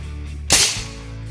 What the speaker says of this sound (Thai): ฉีดแก๊สนะครับยิงเปล่าดูนะครับ